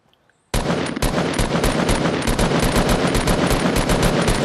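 Rapid assault rifle fire in the Fortnite video game: a dense, loud, steady stream of shots after a brief quiet start, continuing without pause to the end.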